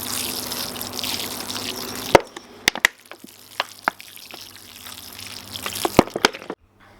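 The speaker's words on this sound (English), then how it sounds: "Then just cover them over and give them a good watering in." Water pours onto soil over newly sown squash seeds, a steady close splashing gush that stops abruptly, followed by a few sharp knocks and clatters before going quiet.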